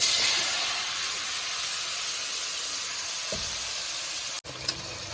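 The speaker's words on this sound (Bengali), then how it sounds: "মশলা সব কিছু ভাজা হয়ে গেছে এবার আমি চিকেনটাকে দিয়ে দেবো এর মধ্যে" Chicken pieces dropped into hot oil with bay leaves, whole cumin and fried spices, giving a loud, steady, hissing sizzle close by that cuts off abruptly near the end, then resumes.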